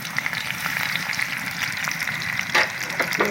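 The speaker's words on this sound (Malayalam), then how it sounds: "സവോള തക്കാളി ഇഞ്ചി കറിവേപ്പിൻ്റെ ഇല പച്ചമുളക് ഇതെല്ലാം നമുക്ക് അങ്ങോട്ട് ഇട്ട് കൊടുക്കാം" Onion, tomato, ginger, curry leaves and green chilli frying together in oil, a continuous dense sizzle with light stirring clatter and a couple of louder scrapes near the end.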